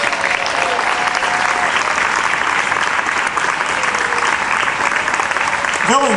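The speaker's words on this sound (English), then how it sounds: "please round of applause for Billy" Steady, dense applause from an opera gala audience at the Columbus Zoo, filling the whole stretch at an even, loud level with no break.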